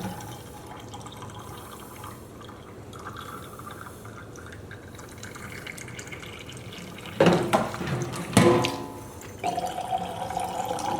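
Boiling-hot water runs and splashes from a tap into a container, a steady gushing stream with a few louder bursts as it fills.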